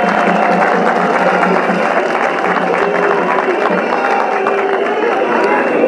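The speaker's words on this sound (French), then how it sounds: "que je vous demande d'applaudir" A crowd at a large outdoor political rally applauds, a loud, continuous roar of clapping and cheering that lasts for seconds, with amplified speech and background sound mixed in.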